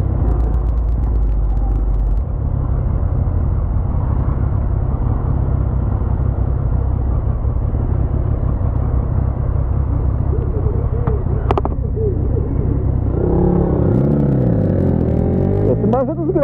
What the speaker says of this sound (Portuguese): Olha o carro na contramão, dá de frente com o busão